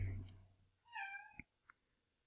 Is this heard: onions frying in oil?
no